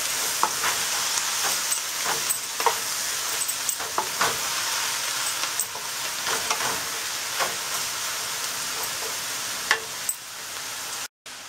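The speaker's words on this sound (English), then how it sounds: "I'm going to saute it little bit for 5 minutes" Kale sautés in a pan with a constant close sizzle, punctuated by repeated sharp stirring clacks and scrapes, cutting out briefly just before the end.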